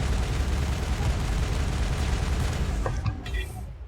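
Sustained automatic assault rifle fire from the Mass Effect 1 video game, a dense, loud, continuous rattle of shots that eases slightly near the end, with no talking over it.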